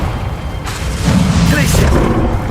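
A Confringo blasting spell in Hogwarts Legacy erupts as a loud booming blast that swells partway through and rumbles on amid game combat noise, with voices in the mix.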